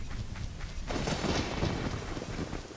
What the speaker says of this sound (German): Wieso gibt es hier Gewitter?